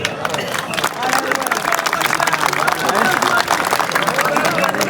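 A big crowd at a political rally applauds steadily, a thick, continuous roar of clapping mixed with babbling voices and shouts, loud and sustained throughout.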